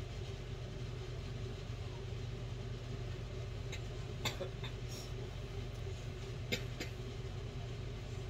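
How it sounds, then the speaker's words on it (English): A kitchen ventilation fan runs with a steady, unbroken low hum and broadband whoosh, with a few faint clinks in the background. "We'll turn on the vent."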